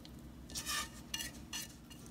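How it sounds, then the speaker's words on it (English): Brownie batter of cocoa, melted butter and sugar is whisked in a bowl, giving three quiet, rhythmic bursts of scraping and clinking against the bowl, alone and without talk. "And then whisk together until it's well combined."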